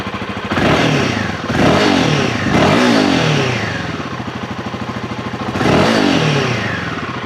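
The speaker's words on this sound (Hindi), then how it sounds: "इसका एग्जॉस्ट साउंड अब आपको मैं सुना के दिखाता हूँ" A Royal Enfield motorcycle's exhaust roars close by through several strong revs, each surge rising and falling back toward a thumping idle, loud and with no talk.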